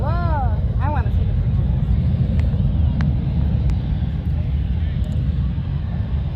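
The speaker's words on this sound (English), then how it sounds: "It's a A350 that comes from Munich every Saturday." An Airbus A350 airliner passes at Charlotte airport, a loud steady engine rumble and roar sustained throughout, with people talking over it.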